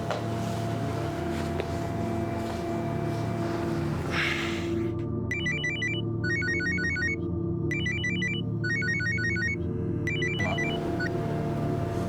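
A mobile phone ringtone starts about halfway through and repeats as bursts of bright electronic beeps in a steady pattern, loud and close over a low background rumble, with no one speaking.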